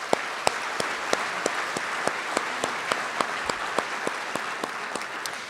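Audience applauding at a 2018 city State of the City address, a steady dense wash of clapping with sharp individual claps standing out at an even rhythm throughout, no voices.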